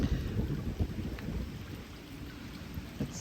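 Steady rain falls outdoors during Hurricane Debby, with a dense continuous patter and a few louder low thuds from drops or distant rumble, moderately close and without any talk.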